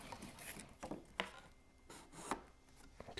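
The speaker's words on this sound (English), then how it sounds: "I'm using a little dowel to really get that pressure right into the little corners here." A small dowel presses and rubs folded paper craft into the corners of an Easter basket, producing faint, close scraping and rubbing strokes with a few sharper taps.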